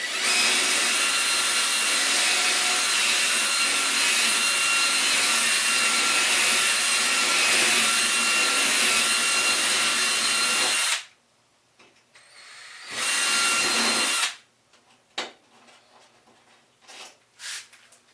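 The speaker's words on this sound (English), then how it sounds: "The other thing that's great for these rivets are the diamond tip bits for Dremels" A Dremel rotary tool with a diamond-tip bit grinds through interior trim rivets on a 1969 Austin Healey Sprite MKIV. It gives a loud, continuous high whine for about eleven seconds, then a second short burst, then scattered quiet clicks.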